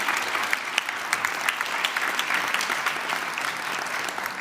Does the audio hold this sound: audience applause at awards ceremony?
yes